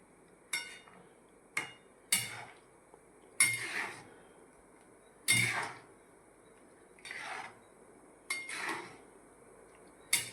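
A spoon scrapes and clanks against a pan while tempered rotlo, a millet flatbread, is stirred and mixed. About nine sharp, close knocks come at uneven intervals over quiet background, with no talking.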